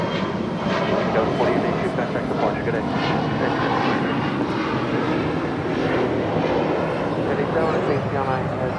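An Emirates A380 airliner at Los Angeles International Airport produces a loud, steady roar of engines, a broad continuous rumble with a voice talking over it.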